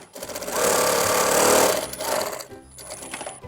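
Jack 2001G industrial sewing machine stitching in steady rapid bursts, a loud mechanical chatter that runs continuously and then eases into lighter intermittent clatter.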